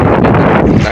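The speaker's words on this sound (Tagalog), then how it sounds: "Dahil mahangin." Wind blowing across a small fishing boat out on open water, a steady broadband roar that buffets the microphone loudly and continuously through the whole moment with no talk.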